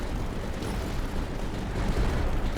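Mortars and tanks in Tower Dominion, a tower defense game, fire continuously, giving a dense, rumbling barrage of overlapping booms with no gaps, heard alone at moderate loudness.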